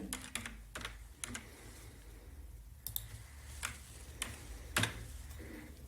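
Clicky keystrokes on a computer keyboard as a name is typed into a form, irregular bursts of close taps with short pauses between them, alone without talk.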